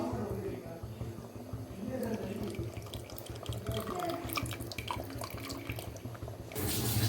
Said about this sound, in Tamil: இப்போ புளியை கரைச்சி ஊற்றிடலாம்.